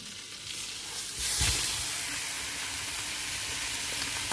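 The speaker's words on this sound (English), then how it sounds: "just add in some butter to a really nice hot pan and just swirling the pan around, and then we're going to add our lovely steak" Steak searing in butter in a very hot pan gives a loud, steady sizzle that swells sharply near the start and then holds as a dense, continuous frying hiss with no talking.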